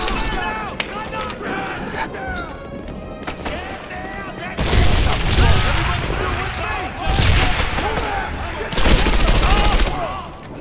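Rapid gunfire crackles through a WWII shooter game in Medal of Honor Airborne, dense overlapping rifle and machine-gun bursts with booming impacts that swell louder in the second half, while voices talk over the action.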